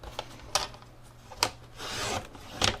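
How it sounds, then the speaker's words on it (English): Paper trimmer slicing pieces of patterned paper for bookmarks, three or four quiet, brief sliding rasps spaced about a second apart with a softer drawn-out swipe in between, no talk. "I just thought I would try to get a little bit straighter of a cut by throwing it on my trimmer"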